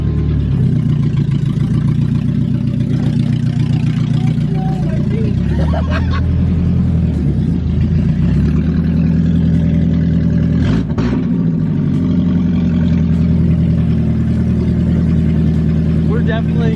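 A Mercedes, out on its first drive in ten years, pulls away with a steady low engine drone and mild revving that holds for the whole stretch, while people talk and cheer over it.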